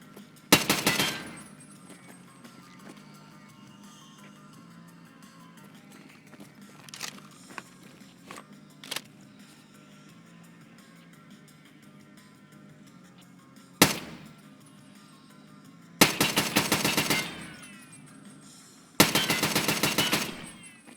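Automatic gunfire from a video game gun rattles out in several loud, rapid bursts, with scattered single shots and quieter game sounds in between.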